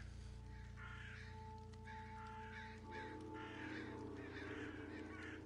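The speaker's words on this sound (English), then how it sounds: "Honking." Geese honk repeatedly at a distance in The Walking Dead: Saints & Sinners, a string of rough calls over a steady low ambient hum.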